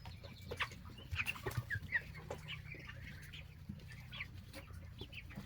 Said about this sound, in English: Meat birds are just enjoying the sun and some grass.